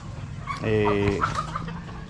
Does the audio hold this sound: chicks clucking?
yes